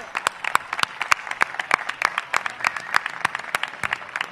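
An audience at the 2023 Puerto Real carnival proclamation claps. Individual hand claps ring out crisp and close over a softer wash of applause for several seconds.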